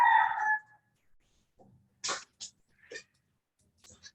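A neighbour's chicken gives a brief, loud, harmonic crowing call at the start. A few faint, scattered short sounds follow in otherwise quiet surroundings.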